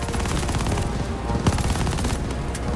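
Machine gun fire in the shooter game Call of Duty Vanguard, dense rapid bursts close and loud with booming impacts, continuous across the short stretch.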